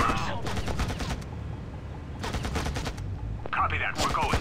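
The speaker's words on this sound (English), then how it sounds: "Taking fire, sir!" Video game gunfire from Act of War crackles in rapid automatic bursts, loud and close, coming in two main volleys with a short lull between them, while shouted voice lines and radio chatter come in near the end.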